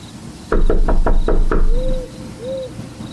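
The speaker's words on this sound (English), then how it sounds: "I knocked 1 more time out of desperation" Five firm knocks land in quick, even succession on a door, followed by a couple of soft cooing bird calls in the background.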